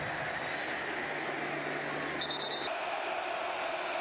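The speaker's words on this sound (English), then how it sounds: "Crowd back in the game now for Ohio State" A packed stadium crowd at the 2022 Ohio State vs Michigan college football game lets out a steady, dense roar that holds at an even level throughout, distant and continuous, with no clear breaks.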